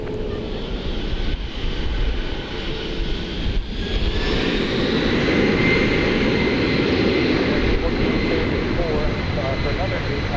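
A jet airliner takes off at night from DFW Airport, its engine roar a broad, steady rumble with a rising whine that holds loud throughout, while air traffic control radio talk runs over it.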